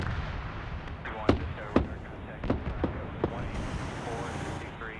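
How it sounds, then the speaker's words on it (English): RPG fire and explosions from a combat video game strike a BMP armored vehicle, heard as several sharp booms spaced a second or so apart over a rumbling background, with a voice talking over them. "Seeing AT going back and forth as they're firing RPGs in that BMP."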